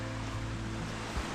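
River water diverted into the canal of an old gristmill in the Great Smoky Mountains, rushing in a steady, loud, close broadband wash with a low rumble and no pauses.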